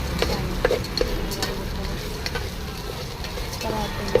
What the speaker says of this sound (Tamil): சட்னி நல்லா வதங்கிடுச்சு